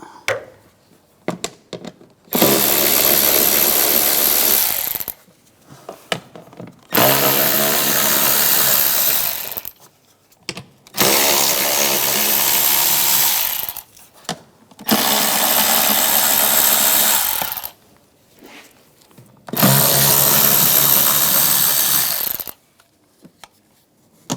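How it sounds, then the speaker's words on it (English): A power tool drives an 8mm socket to remove cover bolts while replacing the master cylinder on a 2009-2013 BMW 328i xDrive 3.0L L6, five loud whirring bursts of a few seconds each separated by short pauses and clicks. "use an 8mm socket, take these bolts out"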